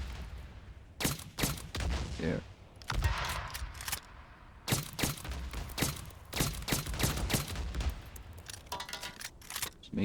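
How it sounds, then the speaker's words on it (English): Rapid bursts of gunfire ring out in the video game Days Gone, fired at crows, loud repeated volleys with short pauses between them, and a voice speaks briefly once. "Let's try to shoot random objects."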